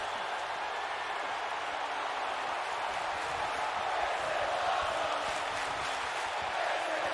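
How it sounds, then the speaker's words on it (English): Arena crowd noise from the wrestling video game WWE 2K, a steady, fairly quiet roar of cheering that holds evenly throughout without clear peaks. "The crowd comes alive for Johnny Gargano."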